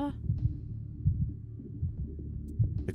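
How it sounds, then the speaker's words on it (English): A steady, low thumping heartbeat sound effect pulses in a regular rhythm under a faint hum, with a soft muffled quality. "the heartbeat is so unnerving"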